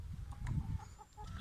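Hens cluck softly in short, scattered bursts, faint and close by, with no talking.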